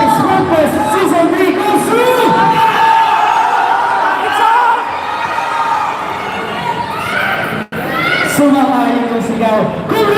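A large crowd at a sportfest award ceremony in Taiwan cheers, whoops and shouts loudly and continuously, with children's voices mixed in and a brief dip before the noise surges again.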